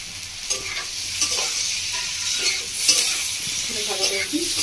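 Vegetables and paneer stir-fried in a pan for a paneer pasta, with a steady sizzle and the scrape and clatter of a spatula repeating throughout.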